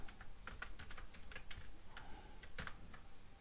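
Rapid, close typing on a computer keyboard, a quick irregular run of crisp clicking keystrokes in a quiet room with no talk.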